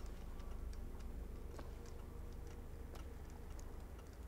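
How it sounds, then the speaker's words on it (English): A clock in the video game BioShock Infinite ticks faintly and evenly over a low ambient game hum, with no voices. "I hear like a clock"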